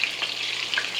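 Meatballs fry in bacon grease, giving a steady close sizzle and crackle with a few small pops and no talking.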